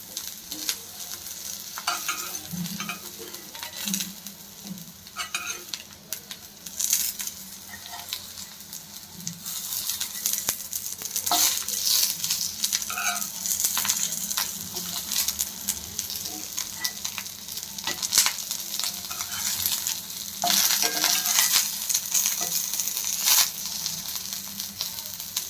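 Food fries and sizzles in a pan while bitter gourd is stirred and flipped, with steady close hissing and scattered scraping and clatter throughout.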